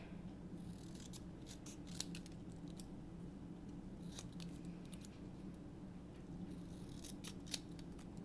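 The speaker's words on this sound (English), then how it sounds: "Alright, so I'm just going to cut this sentiment out" Scissors cut a stamped paper sentiment out of a card-making piece, giving soft, close snipping and crisp paper cuts in small clusters over a low steady hum, with no talking.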